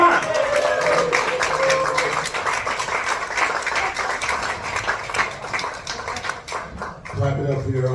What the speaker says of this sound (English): Clap it up for your host.